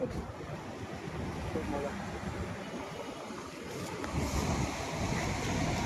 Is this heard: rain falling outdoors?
yes